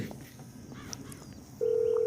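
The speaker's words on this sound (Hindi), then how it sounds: "वो लेस्टर को फ़ोन कर रहा है" Phone dialing in the video game GTA 5, as a character calls Lester: soft tones and clicks under game ambience, then a steady sustained ringback tone that comes in loudly near the end.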